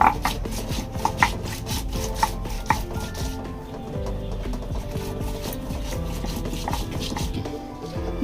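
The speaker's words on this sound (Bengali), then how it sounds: "গোটা ধনে আমি একবারে বেটে নিব" Whole cumin, coriander seeds and four dried chillies are ground on a grinding stone, with close, rhythmic rubbing and knocking strokes that repeat steadily and then settle into softer scraping, no talk.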